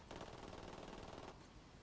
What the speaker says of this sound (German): Diese Schüsse wieder, diese Präzision, unglaublich.